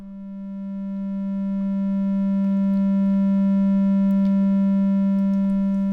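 A steady synthesized sine tone holds one pitch throughout, smooth and continuous, swelling slightly in loudness with no other sounds.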